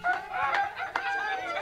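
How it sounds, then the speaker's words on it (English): A rooster crows somewhere off at a moderate distance in a single drawn-out, wavering call. There is light background noise and no one speaks. "They waking me up with cock-a-dooing."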